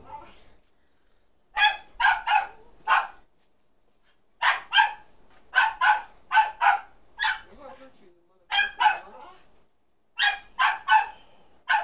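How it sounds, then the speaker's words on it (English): Dog barking in a building, bursts of three or four sharp barks repeated several times, moderately close and loud, with quiet gaps between the bursts. "That dog need to go upstairs."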